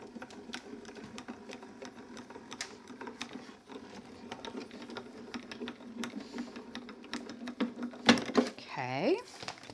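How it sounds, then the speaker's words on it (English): A craft embossing machine pressing a card through an embossing folder with a base plate and adapter, giving a busy run of clicking, ratcheting mechanical sounds, then a louder grinding whir near the end, close up. "Give it a quick emboss."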